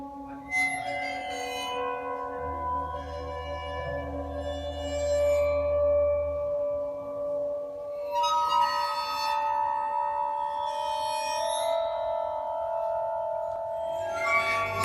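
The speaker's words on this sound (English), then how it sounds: "this waterphone megabase has really two main components: water and a metal" A waterphone megabase, an instrument of metal rods and water, rings out with eerie, glassy sustained tones and bowed-sounding swells, moderately quiet with a low hum midway, no talking.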